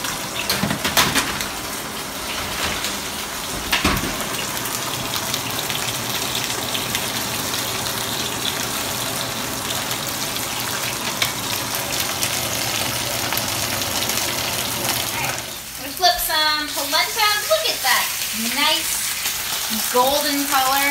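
Polenta cooking in a pot on the stove gives a steady bubbling hiss throughout, with louder popping, spluttering bursts toward the end.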